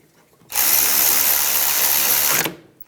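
A power tool drives the rear brake caliper bracket bolts home on a 2001-2006 BMW 325Xi, whirring loudly and up close in one steady two-second burst before cutting off.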